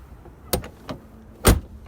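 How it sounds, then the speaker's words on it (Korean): Door of a BMW E30 320i opened by its unusual handle: a few sharp mechanical clicks and a solid latch clunk, the loudest near the end, close by with no talk. "문 손잡이도 되게 특이하죠 이렇게 열고 소리도 되게 좋아요"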